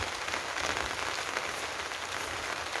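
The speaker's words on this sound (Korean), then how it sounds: "빗소리가 참 좋습니다." Rain falls on a Shine Muscat grape farm during a sunshine shower, a steady close hiss of drops with no breaks and no voices.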